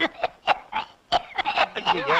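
A series of short, sharp coughs in an irregular rhythm, close by, ending in a rougher wheezy stretch.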